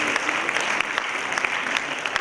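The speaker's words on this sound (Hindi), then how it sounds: "जोरदार तालियां चाहिए।" An audience at a children's Islamic quiz contest claps to welcome the young participants, continuous even applause of many hands with small sharp peaks, no talking heard.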